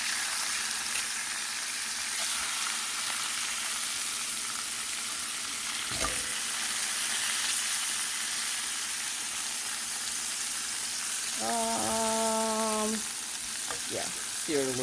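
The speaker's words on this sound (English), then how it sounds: "sear it a little bit more on that side" Meat sizzles steadily as it sears in a hot pan, a constant close frying hiss with a brief clatter near the end.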